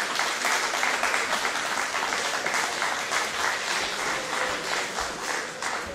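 A large audience applauds after a performance by a village orchestra at a Wieliczka event, with sustained, dense clapping that stays loud and steady throughout.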